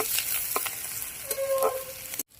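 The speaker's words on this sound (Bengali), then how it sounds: "লাল লাল করে ভেজে নেব" Ghetu plant stems fry in oil in a pan, a soft continuous sizzle broken by a few brief stirring scrapes and crackles, fairly close and quiet, ending in sudden silence.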